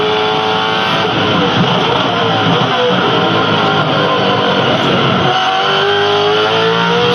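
A V8 Supercar race car accelerates hard during qualifying at the 2010 Yas V8 400, its engine roaring loud and steady throughout, pitch shifting up as it pulls away.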